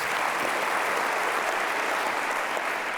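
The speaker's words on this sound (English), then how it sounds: "Worth an applause." Audience applause in a hall after a speech about difference and dress in a chamber, a steady, even wash of many hands clapping with no talk over it.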